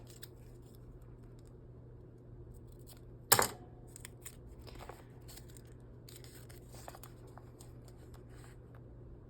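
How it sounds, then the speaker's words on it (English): A single sharp, close scissor snip trims the edge of washi tape on a junk journal cover, with faint paper rustles and light handling afterward in a quiet room. "Let me trim the edge too."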